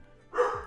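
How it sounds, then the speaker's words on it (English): A single short dog bark, fairly close and clear, with no talking around it. "Sorry for my dog barking."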